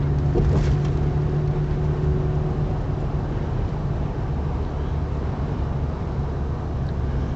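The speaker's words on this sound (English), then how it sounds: "Traffic is slowed down here on the bridge." Slowed road traffic on a bridge, a steady broadband rumble of car engines and tyres with a low drone, continuous and fairly loud from inside a moving vehicle, with no voices.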